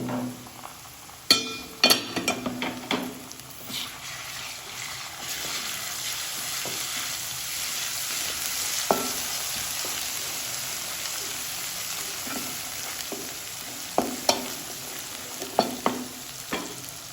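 Ginger garlic paste fries in a pan for a fish curry, a soft, faint sizzle running throughout with occasional clinks and stirring scrapes of a utensil against the pan.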